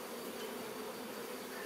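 Honey bees buzzing on a brood frame of young emerging brood while a swarm is prepared, a dense steady hum of many bees held close throughout, fairly soft and without talk.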